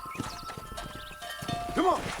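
Horse hooves clatter in rhythmic clip-clop during a cattle-herding ride in the video game Red Dead Redemption on PS4, with a short whinny near the end; the game's music plays alongside.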